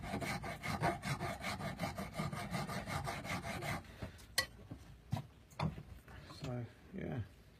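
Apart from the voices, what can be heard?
filing a soaked antler knife handle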